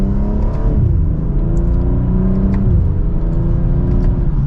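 A stock 2024 BMW M240i xDrive pulls hard from second gear, its engine droning loud and steady from inside the cabin as the pitch climbs smoothly, dips briefly at a shift, then rises again.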